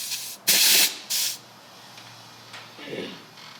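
Compressed air hisses in short, loud bursts as a repaired flat tire is inflated to final pressure, followed by quieter pauses and a faint softer puff near the end.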